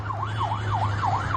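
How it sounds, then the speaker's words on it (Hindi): A wailing siren rises and falls in steady repeated sweeps, loud and continuous, over a low constant engine hum. "आप देखिए, सायरन की आवाज आपको सुनाई दे रही है"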